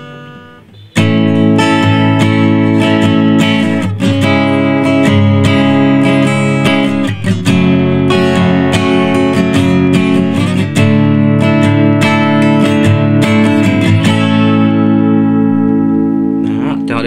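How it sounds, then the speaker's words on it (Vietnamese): Chords played high up the neck of a 1977 Yamaha L6 acoustic guitar are strummed in a continuous, loud, close rhythm of bright ringing strokes after a brief quiet start, with no voices over it. "Và bây giờ quạt thử những ngang trên cao nhé."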